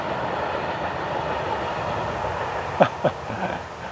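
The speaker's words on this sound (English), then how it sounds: "Has to be the longest train they could find to disturb my audio track." A long train passing nearby, a continuous rumbling rail roar with clickety-clack, and two sharp squeals or clanks near the end, heard with no talk.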